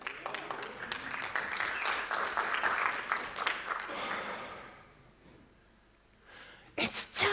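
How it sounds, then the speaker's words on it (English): Conference audience clapping at a CSS fonts talk, a dense round of applause that builds and then fades out over several seconds into near quiet, before a sharp burst of noise at the very end. "Don't applaud, this is awful."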